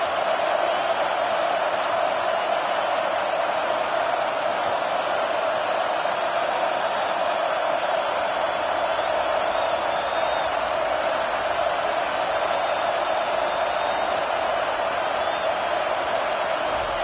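Home crowd noise from the College Football 25 video game, a loud, continuous roar of a stadium crowd on third down that holds steady without letting up.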